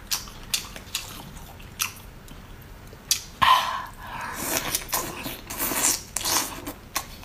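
Someone bites and chews spicy king crab leg at close range, making crisp cracks and crunchy shell snaps at an irregular rhythm, with wet chewing between the cracks.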